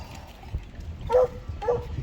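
Dogs in a spring garden give two short barks at moderate distance over low outdoor background noise, with no talking.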